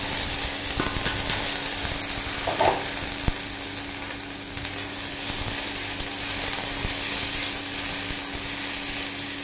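Yardlong beans (borboti) frying in a pan with green chili and onion give a steady sizzle throughout, broken by a few sharp clicks of stirring.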